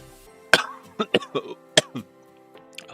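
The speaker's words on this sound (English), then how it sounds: "Oh, my cough needs to calm down." A string of several sharp, close coughs in quick bursts from one person, with throat-clearing sounds between them, in an otherwise quiet room.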